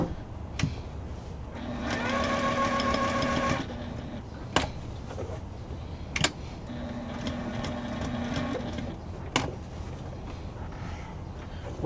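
Sewing machine stitching fabric placemats in two separate buzzing bursts of a few seconds each with a steady whirring motor tone, broken by sharp clicks and quiet pauses between them.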